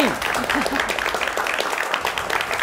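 Applause from a student audience at an event, brought in by an emcee, with dense clapping throughout the short stretch and speech over it.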